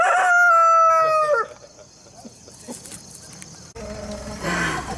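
A rooster newly brought to a backyard flock lets out one loud, close cock-a-doodle-doo that breaks off sharply, followed by quieter farmyard rustling and faint background noise.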